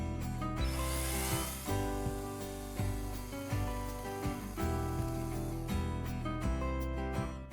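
Kobalt 24V 6-inch battery chainsaw cutting through a woody, tree-like weed stalk about two to three inches thick outdoors, a continuous whirring motor with chain buzzing and gritty cutting texture, fairly close and steady, no talk.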